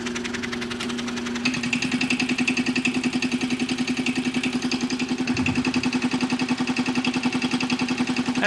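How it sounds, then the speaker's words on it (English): A small homemade electric air compressor, powered through a little control transformer, switches on and runs with a steady, close, rhythmic motor hum and pulsing pump chatter that continues evenly throughout. "This switch turns the compressor on."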